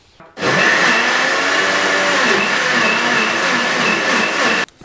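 A blender whirs steadily as it blends lemon balm leaves with a cup of hot water into a vegetable juice, a loud continuous motor drone that starts abruptly, holds for about four seconds and cuts off.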